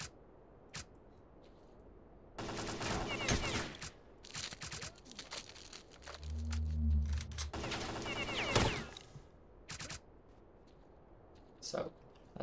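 Bursts of in-game gunfire from S.T.A.L.K.E.R.: Call of Pripyat, two dense volleys of rapid shots a few seconds apart with scattered single cracks between, loud against a quieter ambient background.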